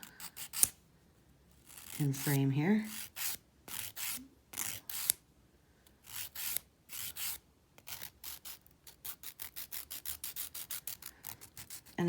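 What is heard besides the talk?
filing a dip powder nail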